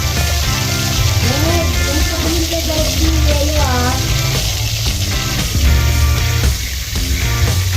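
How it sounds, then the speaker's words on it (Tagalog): Oil sizzles and crackles steadily as banak (mullet) fries in a pan, with a loud, constant hiss and background music or voices mixed in. "prito muna natin yung aligasin o banak"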